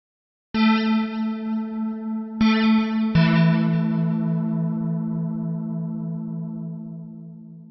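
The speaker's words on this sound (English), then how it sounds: "So you can hear that filter change in the beginning of that sound." A Logic 9 Sculpture synthesizer patch with a Morph filter change plays three sustained, harmonically rich tones, each onset carrying a quick filter sweep. The last note rings out and slowly decays with a chorus-like shimmer.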